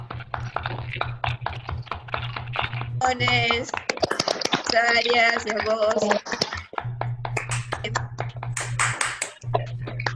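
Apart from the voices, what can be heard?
applause at an online conference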